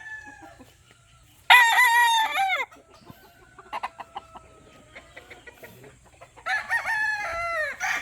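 A young stag rooster on a farm crows loudly twice, each crow a strained rising call lasting about a second, with quieter clucking and scattered farmyard noises between them.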